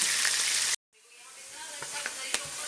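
Chopped onions stir-fry in 1.5 cups of oil in a pan, a steady loud sizzle that cuts out abruptly for a moment, then resumes softer with occasional crackles and spatters.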